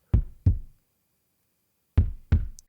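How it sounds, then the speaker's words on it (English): Four deep, thumping kick-drum hits made by a fist banging a piano bench, in two quick pairs separated by a pause, boomy and processed, with short decays and nothing else around them. "which is take my fist and bang it against the piano bench here"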